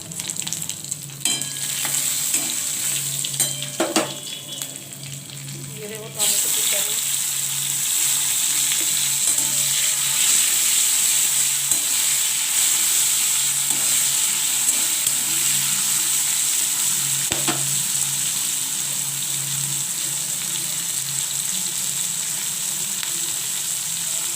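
Panch phoron five-spice seeds and four green chillies hit hot oil with bay leaves, a loud close sizzle that starts with crackling and stirring clatter, then settles into a continuous strong frying hiss.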